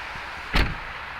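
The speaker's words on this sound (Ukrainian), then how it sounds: "Дверочки закриваються, дверки не просаджені." A single solid thud of a Volkswagen Vento car door shutting, short and fairly close, over a low steady background hum.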